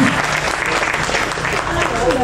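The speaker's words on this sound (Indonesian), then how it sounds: "Boleh saya dengar tepuk tangan semangatnya bagi kita semua." A school parenting-event audience breaks into lively, dense clapping, with scattered voices mixed in underneath the applause.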